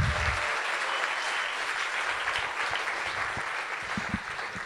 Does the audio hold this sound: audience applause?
yes